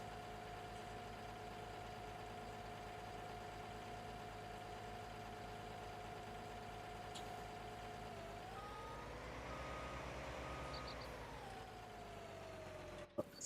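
A steady, low diesel engine hum of a New Holland T9 tractor in a video game mod idles continuously, then shifts pitch briefly as the revs change, with a faint high tone running over it.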